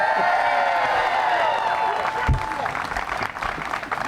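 A crowd at an outdoor park celebration for new lighting claps and cheers loudly, with whoops and shouts over dense applause, a thump partway through, then clapping continues as voices mix in.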